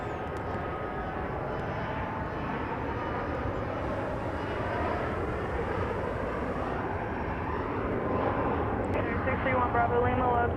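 A JSX Embraer 145 jet takes off at Dallas Love Field, its engines a loud, steady broadband roar that swells gradually over the whole span, heard outdoors from nearby.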